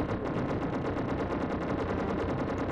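Blaster fire in Super Empire Strikes Back on the Super Nintendo: a fast, even stream of about six shots per second, loud and alone for the whole stretch.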